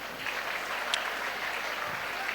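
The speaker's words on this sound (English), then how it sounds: "clap for yourself." Steady crowd of college students at an induction programme clapping for themselves, a soft, fairly distant and uniform patter of many hands with no voices on top.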